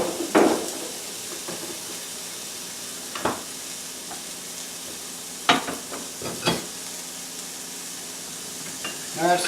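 Freshly flipped, charred pineapple sizzles on a hot grill with a steady close hiss, broken by a few sharp taps and clanks of a metal utensil against the grill.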